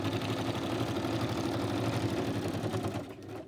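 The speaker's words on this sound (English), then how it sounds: "my sewing machine's not going to like it very much" A sewing machine stitching through magazine pages whirs in a fast, steady rhythm, close and continuous, slowing slightly at the end.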